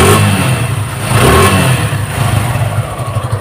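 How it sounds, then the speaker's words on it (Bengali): A 2024 Suzuki Gixxer SF FI ABS motorcycle engine idles and revs up loudly up close, with repeated throttle blips over a steady throbbing idle. "ইঞ্জিন সাউন্ডটা যদি শোনে"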